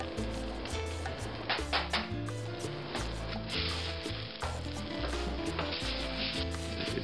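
Vegetables sizzle in a hot pan for Spanish (Mexican) rice, a steady hiss and crackle running under a loud, rhythmic music track with a heavy bass line.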